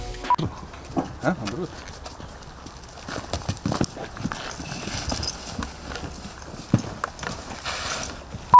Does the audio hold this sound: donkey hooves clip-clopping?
yes